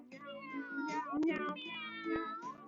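Voices imitate a cat, drawing out several wavering meows in a row, close and clear.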